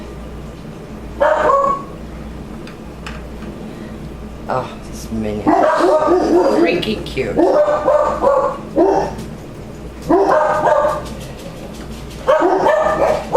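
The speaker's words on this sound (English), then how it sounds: "I'm really sorry about the dogs" Several dogs bark in repeated bursts, yapping and woofing loudly in clusters with short pauses between them, while a person talks over the noise indoors.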